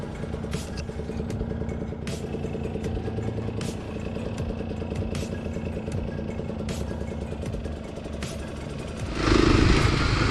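A Kawasaki KLX dual-sport motorcycle rides single-track trail, its engine droning steadily up close with periodic clatter and knocks, then surging louder near the end.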